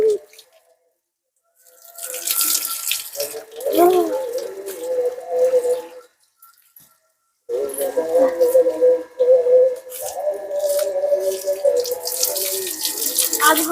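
Water poured in quick splashes over someone bathing outdoors under a tree in village sunshine, arriving in two bursts separated by a short pause, with voices talking nearby.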